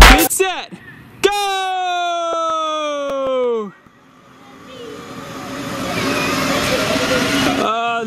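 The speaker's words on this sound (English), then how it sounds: "The Corvette did a burnout off the line." Battery-powered Power Wheels toy cars race after a 6V to 12V conversion, with a high whining pitch early on, then a Corvette's burnout as a rising, gritty rush of spinning wheels on loose ground. Voices can be heard near the start.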